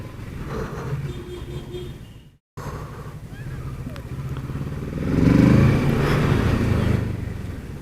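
A Kawasaki Versys 650 or Z650 motorcycle accelerating on a test ride, steady engine drone under wind rush that swells into a stronger pull midway, after a brief cutout.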